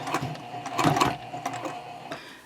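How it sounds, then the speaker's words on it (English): Sewing machine stitching across a key fob coin pouch, a close mechanical whirring in short bursts of rapid needle strokes that speed up, pause briefly and resume. "Okay, so now we'll just sew across."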